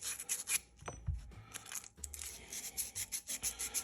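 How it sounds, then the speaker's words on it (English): Sandpaper rubbed over pen tubes to dull their shine, a close, quiet scratchy rasp in short repeated strokes with a few soft knocks, no talking. "Now I just got to take the shine off these tubes, a little bit of sandpaper."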